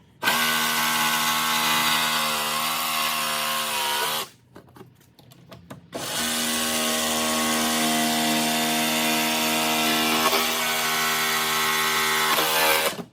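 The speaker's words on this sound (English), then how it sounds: "See how nice and smoothly the jigsaw's cutting?" A jigsaw cuts steadily through a Harley-Davidson saddlebag lid with a loud, buzzing motor whine, pausing briefly in the middle before resuming the cut for several more seconds.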